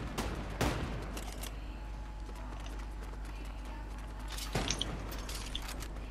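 Two sharp gunshots ring out in the video game Fortnite, one early and one near the end, with a quiet, steady background hum between them.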